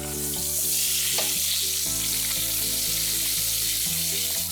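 Pork chop fat cap pressed against a hot pan, a steady loud sizzle and crackle of searing fat running throughout with a hum underneath, no voices.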